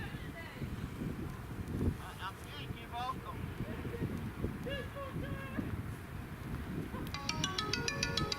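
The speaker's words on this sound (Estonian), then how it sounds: "Muidugi see helistab." A phone rings in repeated electronic trills amid steady outdoor wind and microphone buffeting at a 2019 CCI2* cross-country event in Sopot, with a person talking over it.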